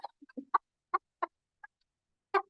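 Hen clucking in a cage during a 4-H poultry judging session, a series of short, separate, fairly close clucks at irregular intervals, with a sharper louder cluck near the end, quiet between calls.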